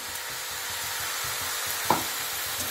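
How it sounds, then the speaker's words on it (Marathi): Mint pulao rice with mint chutney, lemon juice and sugar is gently stirred in a pan, making a soft, continuous sizzle with light scraping and one brief clink. "हे छान एकदा हलक्या हाताने आपण परतून घेऊया."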